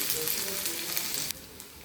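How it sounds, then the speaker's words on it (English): Cashew nuts frying in a pan for vegetable korma, a bright close sizzle that drops abruptly quieter near the end, with a faint low hum underneath. "and then I'll add the cashew nuts also. So let it fry for some time."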